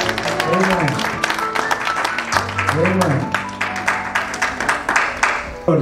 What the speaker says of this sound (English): Can we give a clap to Jesus?